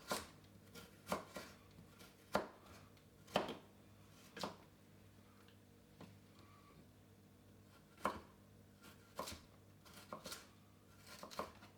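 A carrot being chopped on a board, a series of sharp, irregular knife taps, some in quick bursts and others spaced apart, close but quiet against a faint background hum.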